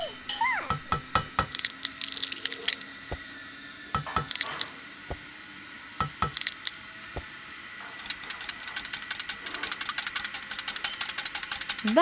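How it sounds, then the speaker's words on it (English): A wire whisk beats eggs in a bowl, with repeated rapid clinking strokes in uneven bursts that speed into a dense, steady rattle toward the end, close and fairly loud. "The whisk mixes the eggs in a bowl."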